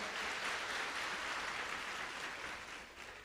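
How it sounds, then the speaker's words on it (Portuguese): A church congregation claps together during a Mass homily, a soft, steady spread of applause heard from a distance that fades slightly toward the end. "Uma salva de palmas para ela."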